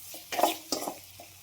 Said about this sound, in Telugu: బాగా మిక్స్ చేసేసుకోవాలండి.